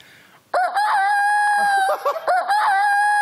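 A person imitates a chicken with their voice, letting out loud, sustained squawking clucks that waver in pitch, followed by a shorter burst of clucking near the end.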